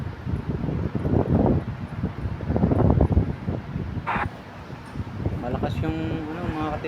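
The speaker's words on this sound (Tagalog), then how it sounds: "Malakas ang hangin." Strong wind buffets the microphone in gusty, rumbling bursts as someone talks over it, with a brief higher-pitched sound near the end.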